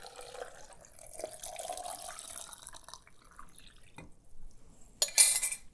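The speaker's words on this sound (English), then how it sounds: "Now all we're gonna do is pour our saltwater brine over top." Saltwater brine poured over lemons packed tightly in a jar, a close liquid stream gurgling and trickling for several seconds, then a brief pause and a final bright splash of pouring, no voices.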